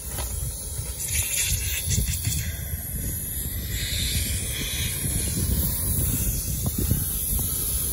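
Air hisses steadily out of a punctured tire on a John Deere Gator 4x2 utility vehicle, a loud, close, continuous rush lasting the whole stretch with no talk.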